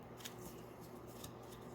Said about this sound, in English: the cards told me to shuffle a bit more